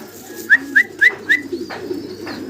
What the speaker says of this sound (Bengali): জার্মান বিউটি হোমা দেখাচ্ছি ব্লুবার এবং টাইগার কালার।